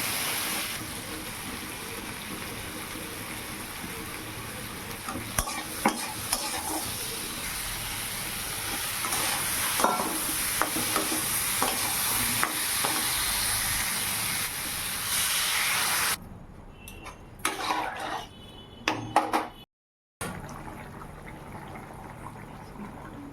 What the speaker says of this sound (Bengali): এখন তরকারি ফুটতে দেবো।